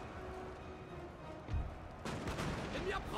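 Gunfire in a Napoleon Total War siege battle: faint, muffled shots, with a sharp report midway followed by a louder stretch of crackling fire over a quiet background.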